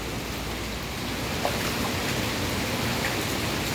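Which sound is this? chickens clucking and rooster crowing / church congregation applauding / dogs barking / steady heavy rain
steady heavy rain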